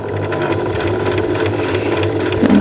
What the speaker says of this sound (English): Now I'm going to stitch back into my first row of stitching.